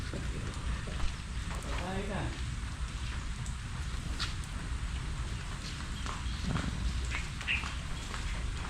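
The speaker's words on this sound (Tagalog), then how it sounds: "Yan na naman ang ulan." Steady rain falls over an outdoor work area in the Philippines during tree trimming, a dense even hiss with a few scattered drops and faint bird calls, no speech.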